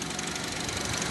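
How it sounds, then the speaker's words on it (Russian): A car engine idles steadily with a continuous low rumble and faint rhythmic knocking, close by and alone for about a second. "машина, как вы слышите, заведена"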